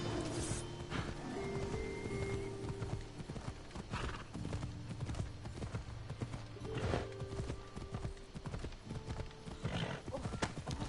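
Rhythmic hoofbeat clip-clop of a galloping horse in Assassin's Creed Odyssey, with a whinny and game sounds, continuous throughout with faint talk underneath.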